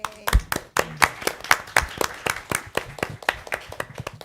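Scattered hand clapping from a school board meeting audience, a few close, sharp claps in an uneven rhythm that keeps going, with no talk over it.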